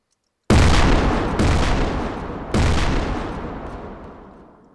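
Three heavy armor-piercing weapon shots from Garry's Mod's ACF weapons system go off after a brief silence, each a sudden loud boom whose rumbling tail decays slowly before the next blast.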